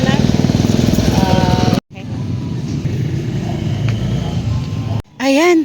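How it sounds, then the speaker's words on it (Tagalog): Motorcycle carrying a passenger, its engine droning steadily and loudly throughout with a brief dropout, and a voice speaking near the end. "Angkas ko na lang si tatay sa motor."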